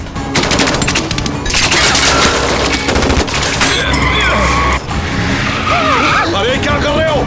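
Rapid bursts of gunfire crackle over a roaring engine and screeching tires during a chase in an adventure film, loud and continuous, with a brief pause midway.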